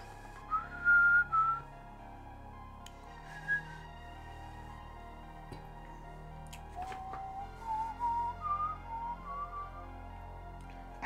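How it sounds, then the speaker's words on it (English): A person whistles while watercolor painting, short melodic phrases coming and going with pauses between them, soft and close over a quiet room tone. "I have, like, a compulsion to whistle constantly"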